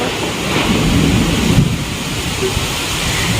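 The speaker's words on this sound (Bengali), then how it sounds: "যেমনি মেঘ ডাকছে তেমনি বাজ পড়ছে তেমন বৃষ্টি হচ্ছে" Heavy rain pours steadily while thunder rumbles low and close, a dense continuous storm wash heard from indoors.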